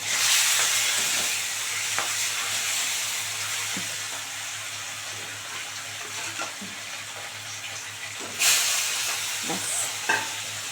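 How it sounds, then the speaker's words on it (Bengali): Rohu fish frying in a pan of hot oil, a steady close sizzle running throughout with occasional utensil clicks and a louder burst of spitting near the end. "তেল ভালোভাবে গরম হয়ে গেছে, এবার মাছগুলো দিয়ে দেবো এক একটা করে।"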